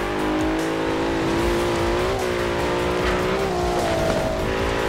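Game car in Forza Horizon 4 accelerating hard, a loud continuous engine roar with rising and shifting pitch and some tire noise, steady throughout with no talk.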